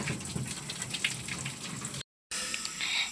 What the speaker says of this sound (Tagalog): Hugas daw siya plato